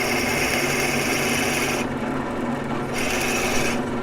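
A drill press bores a hole into an acrylic pen blank, giving a steady, close, loud rasping and grinding that runs continuously, with brief shifts in tone as the bit bites, and no talking.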